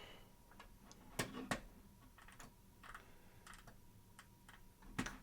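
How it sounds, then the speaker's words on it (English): Fingers type a command on a computer keyboard, giving quiet, irregular key clicks in short bursts with a couple of sharper taps, heard close against a low background hum. "So if we type in Hermes status,"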